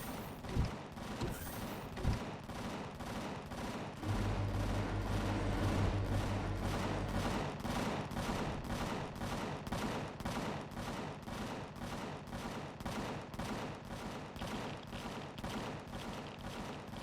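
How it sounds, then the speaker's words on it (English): A companion's weapons firing steadily in Empyrion Galactic Survival, a long regular train of faint repeating shots pulsing at an even rhythm, with a couple of heavier thumps and a low drone early on. "Now what the heck are you firing at?"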